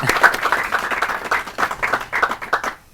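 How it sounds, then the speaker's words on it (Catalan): An audience claps at a Christmas special television broadcast, lively rhythmic applause with several swells that fades out near the end. "Podeu aplaudir."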